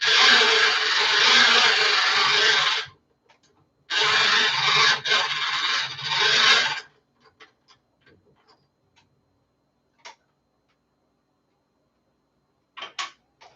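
A hand crank generator being turned in two sustained, loud bursts of rough whirring, each lasting about three seconds, separated by a short pause and followed by scattered faint clicks and ticks.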